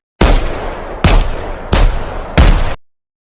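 Gunfire sound effect in a cartoon about the 1915 Singapore Mutiny: four loud, sharp shot bursts in quick succession, each with a brief ringing decay, heard alone before cutting to silence.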